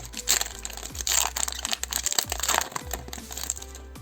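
Close crinkling and tearing of a foil Pokémon trading card booster pack being opened, with irregular rustling bursts and small crunches, no voices.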